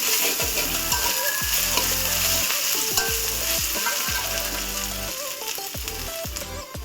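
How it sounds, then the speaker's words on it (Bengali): Cumin seeds frying in a pan for a fish-head muri ghonto, with steady loud sizzling and a spatula repeatedly scraping and knocking against the metal in uneven strokes. "এবার একটু জিরে দিয়ে দিব। এইভাবে ভালোভাবে একটু নেড়ে নেব।"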